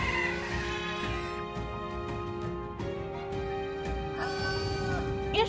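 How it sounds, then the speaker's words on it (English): A strange bird call from the video game Metaphor: ReFantazio, clucking and fowl-like, repeats in short bursts over a steady, tonal game soundtrack. No one speaks. "It's just a bird."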